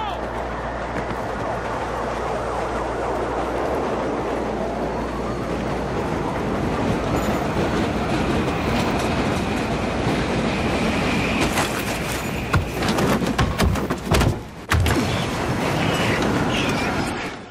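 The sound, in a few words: train running in video game Battlefield 3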